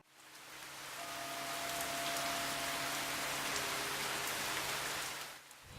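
Steady rain pours and patters across surfaces throughout a theatre performance installation, a dense even wash with a faint low hum beneath and no voices.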